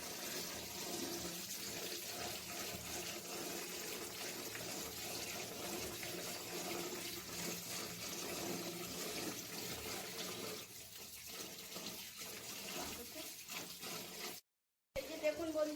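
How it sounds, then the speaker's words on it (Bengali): Water runs steadily from a tap as an ash gourd is washed in a kitchen, a continuous close hiss and splash that stops briefly near the end. "এবার আমি এই চাল কুমড়োকে খুব ভালোভাবে ধুয়ে নেব"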